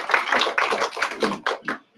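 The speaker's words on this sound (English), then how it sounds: "Let's give her a round of applause." Applause from an audience at a local author day event, a burst of dense hand clapping lasting nearly two seconds before trailing off into scattered final claps.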